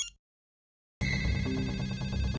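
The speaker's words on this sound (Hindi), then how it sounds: "किसी का फोन बज रहा है आप में से?" A mobile phone ringtone rings steadily and loudly in a home scene from Taarak Mehta Ka Ooltah Chashmah, starting abruptly after a brief silence with a repeating melodic pattern.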